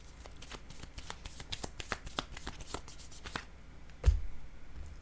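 Tarot cards being handled on a table: a quick run of soft, crisp card flicks and shuffles, close and quiet, then a single louder thump as a card is set down.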